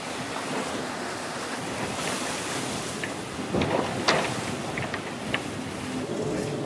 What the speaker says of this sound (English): with Damien Foxall standing at the back of the boat and calling in the big squalls.